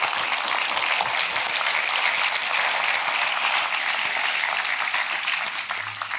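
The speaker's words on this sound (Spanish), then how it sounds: "dale un aplauso a Dios bendito" Dense, steady applause fills a church service as the congregation claps together continuously, loud and even throughout, easing slightly at the close.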